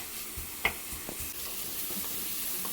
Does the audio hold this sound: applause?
no